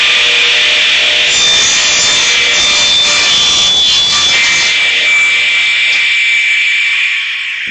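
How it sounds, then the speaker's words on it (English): Plywood being cut for a Shaker-style cabinet door, with a loud, continuous whining saw rasp held steadily for several seconds before tapering off at the end. "So now we just need to get the plywood cut."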